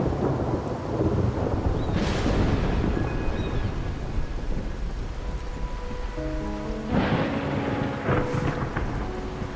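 Rain with thunder rumbling in a video game setting, a broad roll of thunder early on and another swell near the end over steady rain hiss, with some soft game tones between.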